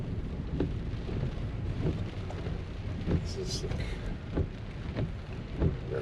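Wind and rain from Tropical Storm Nadine in Belize roar steadily around a vehicle, with gusty rumbling and occasional thumps while a person speaks briefly.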